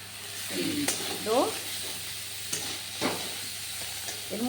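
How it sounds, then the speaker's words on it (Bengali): Cauliflower and carrots frying with ginger, green chili paste, cumin paste, turmeric and salt for a quick khichuri, a moderate sizzle with scraping stirs and a few sharp clinks, while a voice speaks over it. "ফুলকপি আর গাজরগুলো আমার বেশ ভালো করেই ভাজা ভাজা হয়ে এসছে"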